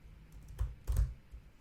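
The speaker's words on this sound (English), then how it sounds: "I'll click and type remove" A few soft keystrokes on a computer keyboard, faint and quiet, with two clearer taps separated by brief pauses.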